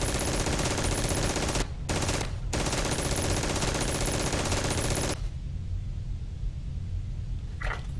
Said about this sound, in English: Nothing more to shoot here, Parker.